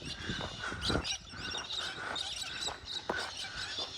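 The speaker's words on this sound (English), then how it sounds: "Plenty of birds to welcome you here." Birds calling around the small town of Spalding on a walking trail, with scattered chirps and harsher caw-like calls repeating over a low outdoor background, fairly close and moderately loud.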